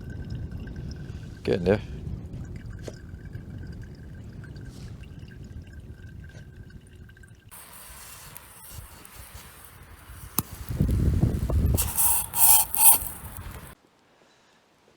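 Water poured by hand through a small pour-through coffee filter at a wild camp, a trickling pour that swells loud near the end amid outdoor noise, with someone speaking briefly before it.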